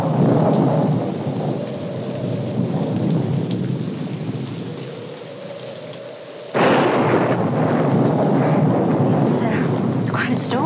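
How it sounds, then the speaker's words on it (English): A thunderstorm rages with steady heavy rain and a loud crack of thunder rolling in partway through, the downpour continuous and dense throughout, loud and close with no talk over it. "It's quite a storm, isn't it?"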